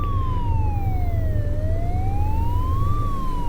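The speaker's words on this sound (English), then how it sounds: "Why is there a police car?" A police car siren from the video game The Way Home wails loud and close in slow rising and falling sweeps over a steady low rumble, with no other sound.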